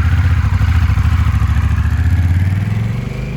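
A used 2023 Honda Rebel 1100 with DCT automatic transmission is clicked into gear and rides off, its engine giving a steady, close, pulsing low rumble that eases and fades slightly at the end.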